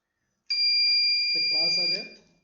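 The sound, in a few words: PLC-controlled buzzer sounding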